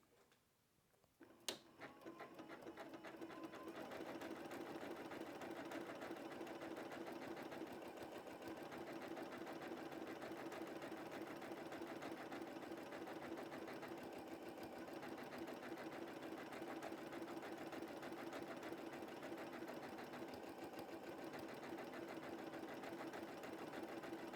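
A Janome Continental M17 sewing machine stitches fabric in a steady, fast mechanical hum with rapid needle ticking, starting after a brief click and running continuously and evenly near the listener.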